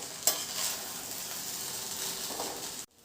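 Basmati rice being stirred and mixed in a frying pan, a steady scraping and rustling with a light sizzle running continuously for about three seconds before cutting off abruptly.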